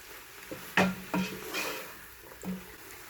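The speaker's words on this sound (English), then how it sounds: "You just want to stir it up." Callaloo greens stirred in a pot while blanching: a handful of hollow knocks and soft scraping clunks of a spoon against the pot, spaced irregularly, close and moderately loud, no talking.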